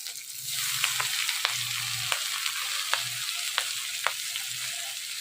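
Greens (shak) frying in a small wok, giving a constant, close sizzle of hot oil punctuated by about seven sharp ticks of a utensil against the metal at irregular intervals, no one talking.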